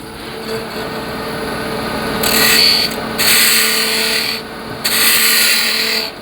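Wood on a lathe is cut with a spindle gouge while turning a pepper mill, bursts of bright, hissing cutting noise over the steady hum of the spinning machine, three passes with short pauses.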